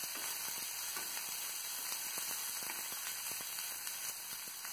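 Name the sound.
onions frying in a pan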